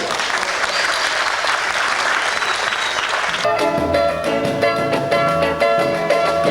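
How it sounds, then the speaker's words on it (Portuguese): Audience applause at a 1989 Black community gathering in Greater Porto Alegre, a thick steady burst of clapping from a crowd that turns into a more rhythmic, distinct clapping pattern partway through. "Para o aplauso de vocês"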